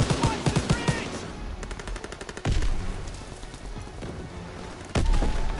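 Heavy battlefield gunfire in a World War II video game, sustained machine-gun bursts and rifle shots aimed at infantry near a tank, loud and close, with sharp booming impacts and voices shouting underneath.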